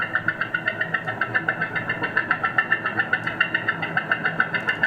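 A bicycle chain sound slowed down into an old piston car engine, steady rhythmic knocking chug with evenly spaced pulses running throughout, loud and close with no voices.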